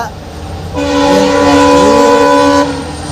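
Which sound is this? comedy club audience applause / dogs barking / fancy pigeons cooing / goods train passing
goods train passing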